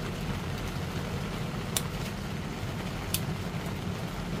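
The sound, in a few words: heavy rain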